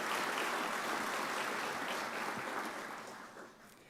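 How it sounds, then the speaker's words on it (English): An audience at a business ethics awards ceremony applauds, a dense wash of clapping that is strong at first and gradually fades away over a few seconds. "let's give them a round of applause."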